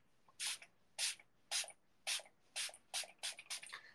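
A skincare face mist bottle sprays in a quick series of about eight short, crisp hissing bursts, evenly spaced and close, the later pumps coming faster, with quiet pauses between them.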